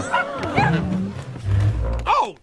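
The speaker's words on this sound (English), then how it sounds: "Oh, you got a puppy?" Small cartoon puppy yipping in an animated Shrek 2 parody scene, several short high yelps and whimpers mixed with a low growling background sound and a brief character voice.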